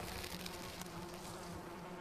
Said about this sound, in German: ich werde von den Bienen vergiftet, merke ich gerade